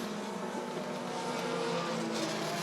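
Bandit-class race cars roar past the finish line in a close heat race at Rockford Speedway, a loud continuous engine drone at a distance that swells slightly near the end, with no talking.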